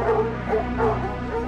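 Dogs joining a large hunt through woods and swamps bark and bay in a steady, layered chorus, loud and continuous over a low droning background, as a sound effect in a scary story.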